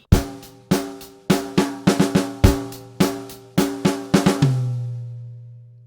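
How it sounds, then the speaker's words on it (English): Two bars of drum-kit break in a rock groove, snare and kick hits climbing onto a high tom, ending on a sustained ringing tom note; close, loud and alone. "now we're going up to that high tom"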